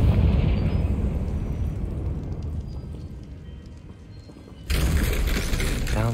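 Confringo fire spell in the Hogwarts Legacy video game, a rumbling explosive blast that roars and fades, then a sharp second burst of crackling debris near the end.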